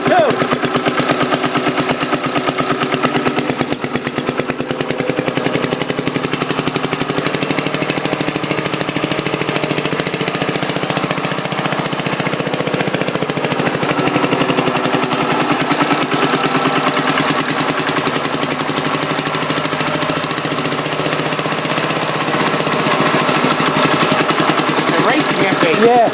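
A 1930 Briggs FH small engine runs smoothly and steadily at close range, a dense rapid putter with some rattling throughout, as people talk over it.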